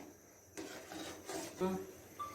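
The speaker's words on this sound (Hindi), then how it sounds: "मुसलसल चमचा चलाते रहेंगे और तब तक हम इसको चलाते रहेंगे जब तक इसका जो घी है वो कढ़ाई छोड़ ना जाए" A spoon scraping and stirring thick jaggery halwa cooked in ghee in a wok, soft rasping strokes of varying strength, quiet and close with no talk.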